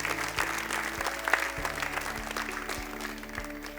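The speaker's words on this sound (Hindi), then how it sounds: "एक बार फिर इनके लिए जोरदार तालियां हो जाए।" Sustained audience applause at a karaoke singing competition final, dense steady clapping from a crowd with music tones underneath and a few rhythmic beats.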